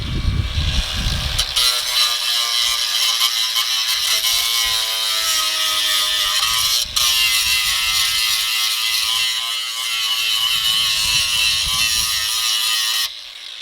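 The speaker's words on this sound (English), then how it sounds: "So John's cutting some stuff off now" A power cutting tool slices metal tabs off the body shell of a BMW E36, producing a loud, sustained, harsh whirring buzz that barely wavers, with a few brief dips and low thumps underneath.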